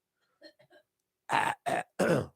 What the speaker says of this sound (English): Always coughing